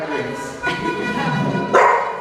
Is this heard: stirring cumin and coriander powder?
no